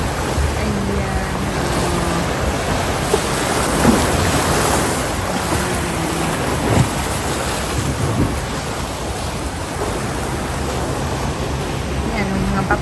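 Strong ocean waves crash and wash continuously along Cheung Sha Beach, a rocky, surf-practice shoreline, forming a loud, steady roar with several heavier surges, while a voice talks faintly underneath.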